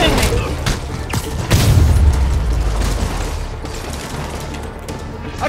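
Enemy gunfire and booming impacts from the video game Marvel's Spider-Man, a dense continuous barrage of shots and blasts with a heavy burst near the middle, mixed with game sounds and a voice talking over it.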